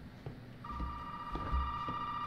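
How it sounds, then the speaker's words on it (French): A telephone rings in the horror game Resident Evil 7, a steady electronic tone that comes in after a moment and holds unbroken over low ambient rumble and faint thuds. "Le téléphone, très bien."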